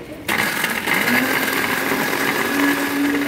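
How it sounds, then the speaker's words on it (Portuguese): A kitchen blender crushes two packets of cornstarch biscuits, starting abruptly and then running as a loud, steady whirring grind with a constant motor whine throughout. "Batei no liquidificador, dois pacotinhos"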